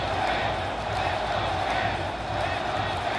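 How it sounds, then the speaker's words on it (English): Stadium crowd roaring loudly and steadily at a college football national championship, Indiana versus Miami, as the home team runs out of the tunnel; a dense, continuous wall of cheering close around the listener with scattered shouts. "and you can hear the crowd"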